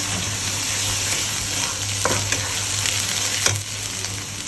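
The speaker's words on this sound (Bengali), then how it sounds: "সুন্দর করে ভাজা ভাজা করি" Turmeric, chili, ginger-garlic paste and salt frying in oil as the base for chicken bhuna: a loud, steady close sizzle throughout, with a couple of sharp stirring scrapes and no voices.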